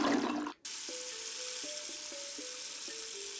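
A toilet flushes in the VR game Baby Hands, a steady rush of water after a brief cutoff, with faint tonal chimes layered over it and no voices.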